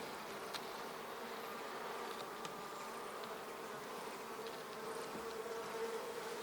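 Honey bees buzz steadily around an open hive during an inspection, a dense, continuous drone close by with no voices over it.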